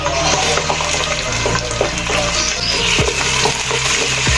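Onions and whole garlic fry in hot ghee for a beef trotters paya recipe, making a dense, loud, continuous hiss and bubbling sizzle with occasional soft clicks.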